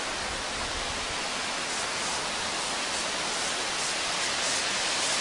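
Waterfall at Adcock Gorge, a steady, dense roar of falling water that fills the whole clip without a break, continuous and unvarying, with no voices.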